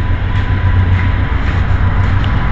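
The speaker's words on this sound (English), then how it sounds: "There's the train." A train rumbles past nearby with a loud, continuous low roar and faint rail clatter, steady throughout with no voices.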